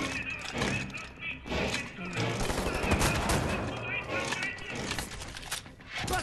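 Machine gun fire in Wolfenstein: The New Order crackles in dense bursts with heavy thuds and impacts, busy and fairly loud across the whole stretch, with voices mixed in.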